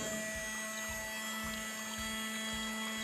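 A small water pump motor in a homemade cooler built from scrap hums steadily with a constant tonal whine and faint watery churning, close and continuous with no talking.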